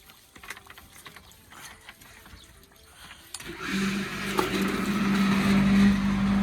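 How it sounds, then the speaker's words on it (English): An irrigator starts up on a grassy farm field, its rollers clicking in a steady ratcheting rhythm that swells into a louder continuous mechanical whir with a low drone partway through. "Spinning, but is she moving? Yep, looks like the rollers are clicking,"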